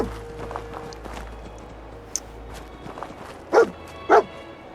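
Dogmeat the dog in the Fallout 4 video game gives two short, sharp barks near the end, heard over low game ambience and faint footsteps.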